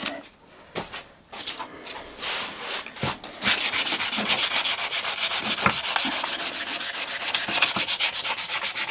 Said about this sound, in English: I like to just wipe this off before I sand